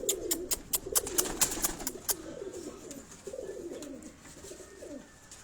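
A breeder's pigeon coos repeatedly, close and clear, in soft rolling phrases, with a burst of sharp tapping sounds in the first two seconds.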